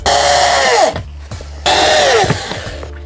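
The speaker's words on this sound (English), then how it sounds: "I'm still using the drywall screws from all the other times I'm screwing into the sheet metal." A cordless power drill drives drywall screws into van sheet metal in two bursts, each a loud whine that winds down as the screw seats, separated by a short pause, close by.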